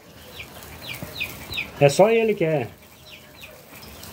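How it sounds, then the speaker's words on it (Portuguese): A clown rooster, a breed named for its white wattle, clucks in a quick series of short calls, then lets out a louder drawn cry near the middle, on a small farm with someone speaking briefly. "aquele ali é o dito galo palhaço"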